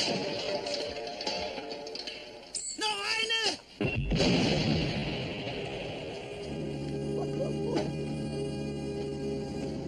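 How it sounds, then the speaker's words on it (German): A grenade explodes in a German crime drama rooftop scene, a sudden heavy blast with a rumbling aftermath after a shrill sweeping tone, with speech and noisy background around it. "Eine Granate!"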